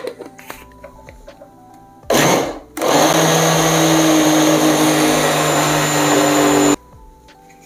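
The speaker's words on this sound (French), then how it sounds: "on va venir les verser dans la cuve d'un blender. Et là maintenant on va venir les mixer." Cooked red kuri squash whirs loudly in a countertop blender jar, a steady high-pitched motor roar starting after a brief burst and a pause, then cutting off abruptly near the end.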